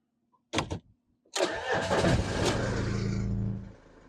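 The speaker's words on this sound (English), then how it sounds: "we will turn on the engine and let it run for a bit with the AC on full power." A couple of clicks, then a campervan engine cranks and catches, settling into a steady rumbling idle before dropping away near the end, close and loud.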